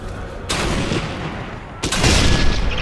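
Gunfire in the video game Sniper Elite 3, with two sharp, loud shots about a second apart, each followed by a booming tail of echo.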